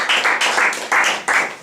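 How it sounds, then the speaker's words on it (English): A group at a mafia game meeting claps in loud, rhythmic waves, the clapping swelling and dipping in an even beat close by. "please give him a round of applause."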